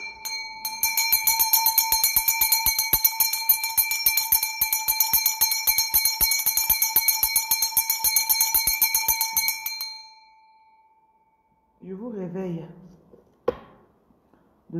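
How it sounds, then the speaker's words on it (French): Handbell rung rapidly and steadily for about ten seconds, bright and loud with a clear metallic ring, then falls silent before a voice speaks briefly. "Je cherche ma cloche."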